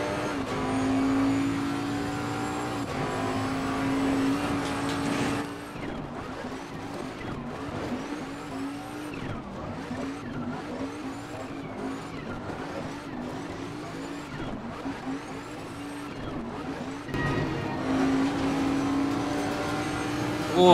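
GT race cars battle at Kyalami in Assetto Corsa Competizione with the Intercontinental GT pack, a continuous engine drone with rising and falling pitch as the car shifts, brakes and accelerates, and tires squeal through the corners.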